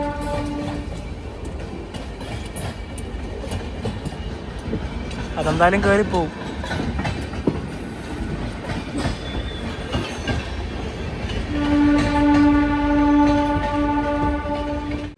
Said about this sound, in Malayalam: ട്രെയിൻ ഇപ്പോൾ മെഹസാന ജംഗ്ഷനിലേക്ക് എത്തുകയാണ്